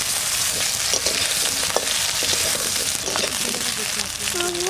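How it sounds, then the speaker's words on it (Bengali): Potatoes fry in oil in a wok, a steady close sizzle with stirring scrapes throughout. "কড়াইতে একটু তেল দিয়ে দিচ্ছি আমি। এবার আলুটা ভেজে নেব।"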